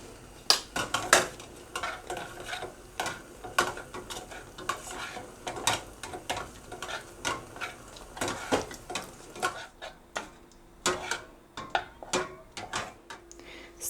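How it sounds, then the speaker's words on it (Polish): Chocolate melting in a bowl over a hot water bath, stirred with a utensil: repeated quick clinks and scrapes against the bowl in an uneven rhythm, close and moderately quiet, with no talking. "na takiej kąpieli wodnej mieszając roztapiamy tą czekoladę"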